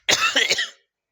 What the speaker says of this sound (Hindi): थोड़ा सा खांसी है, असुविधा के लिए खेद है